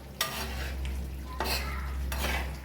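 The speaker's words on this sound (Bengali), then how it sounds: "আবার একবার নেড়ে নেব ভালোভাবে।" A pan of half-cooked food being stirred over raised heat, with a steady close sizzle and frying hiss throughout and three distinct scraping strokes of a utensil against the pan.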